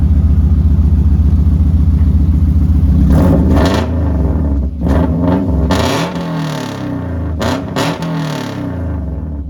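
A Subaru running an engine bought on eBay idles loudly up close, then gets several sharp revs in quick bursts, the engine rising and falling between steady idling.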